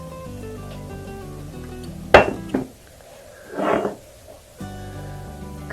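Cucumber kimchi seasoning of salted shrimp, sugar, plum syrup and fish sauce gets mixed in a bowl, with a few sharp utensil clinks and scrapes against the bowl between quieter stretches, no talking.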